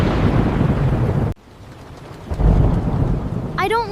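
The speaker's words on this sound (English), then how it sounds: "I don't like the thunder" Deep rumbling thunder rolls over steady heavy rain, breaks off briefly, then swells again as the downpour continues; a short voice enters at the very end.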